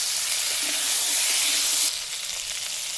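Kohlrabi and potato pieces fry in hot oil with panch phoron and slit green chillies, a steady close sizzle that drops slightly in level partway through, with no talking.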